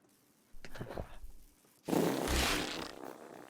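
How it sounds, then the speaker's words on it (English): A fart sounds during a horror game session: a loud, breathy burst of about one and a half seconds that fades slowly, following a couple of quieter scuffing noises. "You just fart?"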